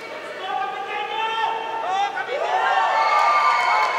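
Crowd at a professional boxing match shouting and cheering throughout, a dense roar with individual voices calling out and rising in waves, loud and sustained under an excited commentator.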